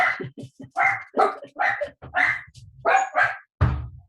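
Several dogs barking in short, loud bursts nearby, about eight yaps in quick succession over a few seconds, with a final heavier bark at the end.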